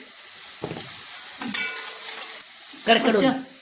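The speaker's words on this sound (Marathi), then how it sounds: "तेलामध्ये मिरची आणि कांदा टाकलेला आहे, तो चांगला भाजून घ्यायचा." Chopped chilli and onion frying in hot oil for a rustic spring-onion curry, a steady close sizzle broken by three bursts of scraping stirring, the last one loudest, with no talk.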